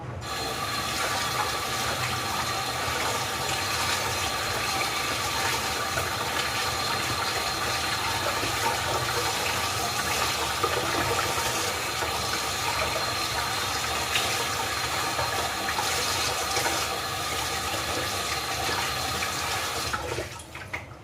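Tap water runs in a steady, hissing stream as raw fish is washed clean of blood in a home kitchen before making Chinese-style fish soup, with faint clinks and rattles of handling throughout.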